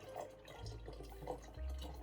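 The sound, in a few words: pouring D76 developer water into container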